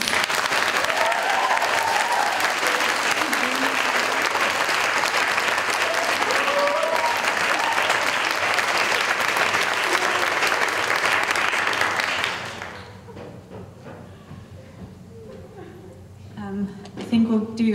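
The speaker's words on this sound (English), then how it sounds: "another round of applause for all three of our readers" A live audience at a book reading event applauds loudly and steadily, then the clapping cuts off and gives way to quieter room sound with a few scattered noises near the end.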